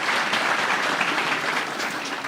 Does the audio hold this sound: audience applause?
yes